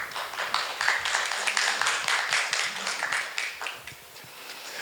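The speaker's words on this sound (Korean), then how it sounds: "이상엽 전무님께 큰 박수 부탁드리겠습니다" Steady applause from a conference audience welcoming a presenter at a 2022 mid-sized company digital transformation forum, a dense, even clatter of many hands lasting several seconds before tapering off slightly.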